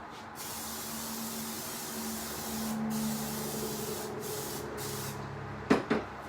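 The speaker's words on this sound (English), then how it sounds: "Now we're going to spray our pan with a little of this pan spray." Cooking spray hissing onto a baking pan, a steady spray of several seconds followed by a couple of short clattering knocks near the end.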